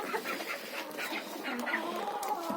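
Hens clucking softly inside a hen house, a continuous murmur of overlapping low clucks and occasional higher calls at moderate distance, fairly quiet and steady throughout.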